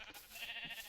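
Sheep on a video game farm let out a short, close bleat that stands alone for under a second, with no talking over it.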